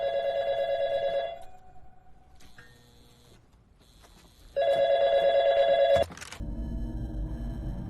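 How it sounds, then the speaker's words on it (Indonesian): A telephone rings at a front desk in a night-watch horror story, two loud electronic ringing bursts separated by a quieter stretch of faint tones, then a low rumbling noise. "Diikuti bunyi klik telepon dari meja depan."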